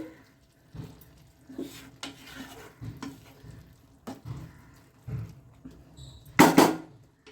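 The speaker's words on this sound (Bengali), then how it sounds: "এবার এটাকে ভালো করে নেড়ে চেড়ে দিচ্ছি" Banana blossom, rice and halved green chillies are stirred together in a cooking pot, giving intermittent soft scraping strokes and a quiet background hiss. A louder, brief burst of stirring noise comes near the end.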